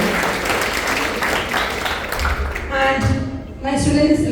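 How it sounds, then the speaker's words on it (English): Applause from the audience at a school investiture ceremony rings out for the teachers, dense clapping that thins toward the end as a voice and tonal sounds take over. "Give them a big round of applause."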